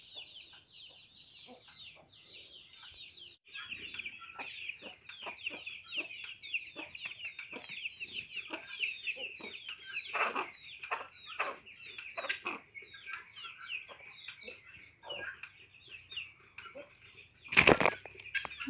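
A flock of farm chickens crowds around as feed is scattered by hand. Constant close clucking and chattering rises, with wing flaps and scratchy rustles, and a sharp burst near the end.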